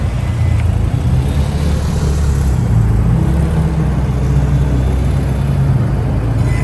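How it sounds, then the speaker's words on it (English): A steady, low engine rumble runs throughout from a motorcycle moving at slow speed on the clutch at close range, with no talking. "So listen to the motor."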